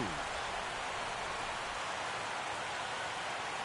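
Rain falls steadily over a baseball game in the sixth inning, an even, dense hiss of broadband noise with no breaks, heard alone.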